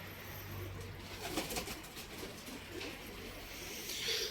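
Pigeons on a pigeon farm coo softly in low, rolling calls against a faint background hum, with no talking.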